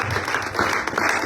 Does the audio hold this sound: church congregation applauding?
yes